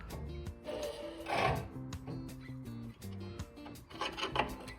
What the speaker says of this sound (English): when the motor is pulled up all the way, the pulley is rubbing on the cast iron